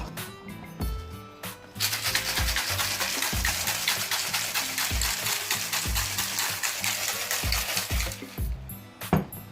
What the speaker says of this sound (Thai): ลงไปในกระบอกเช็คแล้วก็เช็คนะครับ